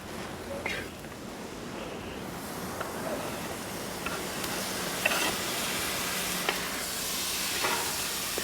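Clam meat (kakka irachi) fries in a pan while being stirred, giving a soft, steady sizzling hiss with faint scraping over several seconds, and voices can be heard nearby.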